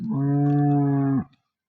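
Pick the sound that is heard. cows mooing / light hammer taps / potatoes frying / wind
cows mooing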